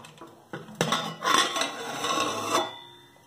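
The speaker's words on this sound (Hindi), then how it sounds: "अब तकरीबन 40 मिनट्स बाद अब आप लीड खोल के देखें।" A pressure cooker lid is opened after a cake has baked inside for about forty minutes, making a few metallic clanks followed by a scraping, grinding rattle of metal on metal, close and fairly loud.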